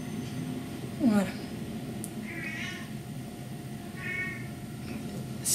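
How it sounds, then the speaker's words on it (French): A cat meows briefly, a rising cry near the start, followed by a couple of fainter mews in a quiet room. "Si vous entendez miauler derrière, c'est mon chat."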